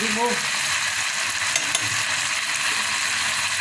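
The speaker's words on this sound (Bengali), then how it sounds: "এবার আমি একটু কষিয়ে নেব" Chicken and spices sautéing in a pan for momo-style chicken manchurian, a close, even sizzle with faint scraping stirs and a couple of light clicks throughout.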